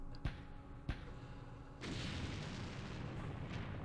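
Artillery fire in the Campaign Series Middle East war game strikes mortar positions: two sharp, distant booms close together, followed by a sustained rumbling roar of explosions, fairly quiet overall.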